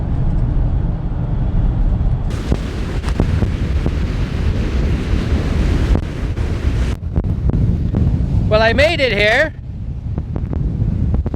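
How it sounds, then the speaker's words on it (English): Wind on a very windy day buffets the microphone in a constant low rumble and roar, while someone speaks briefly and a short warbling tone sounds near the end. "it is a really windy day"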